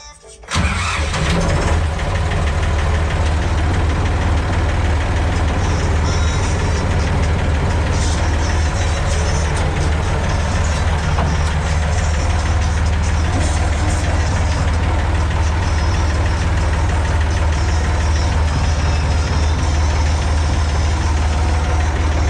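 A farm machine's engine, being readied for the grain harvest, fires up after a short quiet start and settles into a loud, steady idle that runs on without a break.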